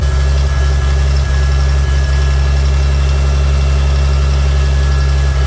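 A Farmall 756 tractor engine idles steadily while warming up, a loud, continuous low rumble with an even vibrating pulse and no other sounds.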